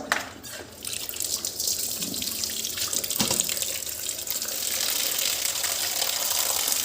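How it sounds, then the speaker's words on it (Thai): Tap water runs steadily into a basin while catfish are rinsed by hand, with splashing and a few knocks against the container, heard up close and without talk. "ล้างน้ำเปล่าออกน้ำหนึ่งก่อนนะครับ"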